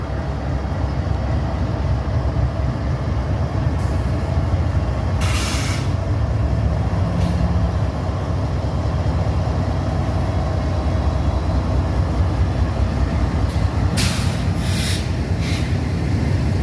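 A freight intermodal train pulled by three locomotives rolls past, a steady loud rumble of wheels and wagons filling the whole stretch, with a few brief hissing bursts over the continuous noise.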